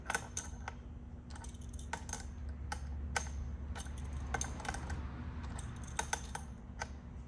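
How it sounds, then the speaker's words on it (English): Two metal wrenches slowly undoing a tight fitting on a Simplex AAS-100 volumetric piston filler, giving a string of sharp metallic clicks and ticks over a steady machine hum. "because it's tight, I'll put the wrench on here, and the wrench on here, and I'll slowly undo it"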